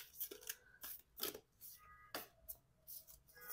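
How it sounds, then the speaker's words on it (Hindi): Tarot cards shuffled by hand in a series of quiet, crisp riffling bursts and soft slaps, close and faint, with brief pauses between handfuls. "Okay, one more shuffle."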